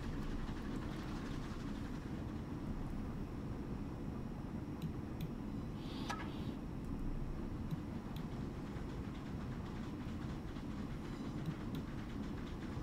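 A locomotive runs along the Dyffryn Lechi Light Railway with a continuous low rumble and faint rhythmic clatter of wheels on track, fairly quiet and unbroken, with a few light metallic clicks near the middle.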